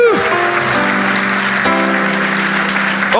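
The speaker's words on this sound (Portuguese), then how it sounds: "Se você confia nele, aplauda ele, porque ele sabe de todas as coisas." A church congregation at a healing and deliverance service claps steadily throughout, mixed with sustained musical tones.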